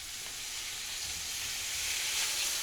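Bologna slices frying in melted butter in a pan give off a steady, hissing sizzle that holds level and swells slightly toward the end, close and without talk.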